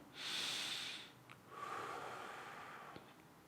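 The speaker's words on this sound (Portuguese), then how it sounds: "Respira aí sem movimentar os ombros." Relaxed, unhurried breaths during a vocal breathing exercise: a soft airy inhale, a brief pause, then a longer gentle exhale, close and quiet with no talking.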